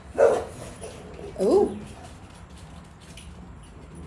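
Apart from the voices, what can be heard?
dogs barking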